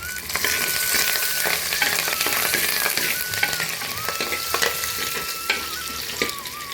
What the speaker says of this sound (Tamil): இது நல்லா வதக்கிக்கலாம். அது கூடவே பச்சை மிளகாய், ஒரு கொத்து கருவேப்பிலை,